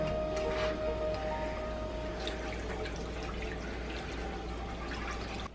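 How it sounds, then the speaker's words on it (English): Milk poured from a whole 16-ounce carton into a pan with roux on the stove, a steady faint liquid rush lasting several seconds with no talking. "Now I'm gonna pour probably this whole carton of milk"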